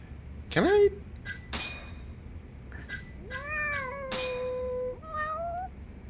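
Several short video-game cat meows, close and clear, arriving in separate bursts with rising and falling pitch and a couple of glassy clinks, over a quiet background.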